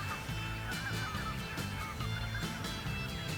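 A flock of geese honking repeatedly in overlapping calls over wet meadows, with a low rumbling background underneath.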